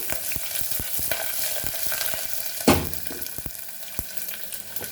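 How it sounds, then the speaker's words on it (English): Mustard seeds popping and chilies frying in hot oil for Goan potato bhaji: a loud, close sizzle with a run of sharp spluttering crackles and one stronger burst partway through. "So once the mustard seeds splutter, then now it's already done. So now we will add our chilies also."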